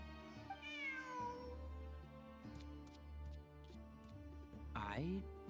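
A cat meows in the video game Genshin Impact with a rising, drawn-out call over a low game soundtrack, followed a few seconds later by a second, shorter, brighter meow near the end.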